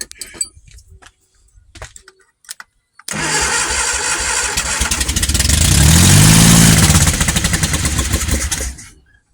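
A Triumph Vitesse with a 2-litre engine cranks and catches after a few quiet seconds. It settles into a loud, rough running note that swells with a rev near the middle, then cuts off abruptly.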